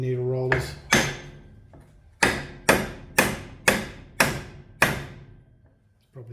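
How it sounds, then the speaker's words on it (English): A hammer taps a universal joint bearing cap into a Toyota Hilux drive shaft yoke: about seven sharp, ringing metallic strikes at a steady, unhurried pace, close and loud, with a brief voice at the start. "A bit easier if I actually tap it in properly."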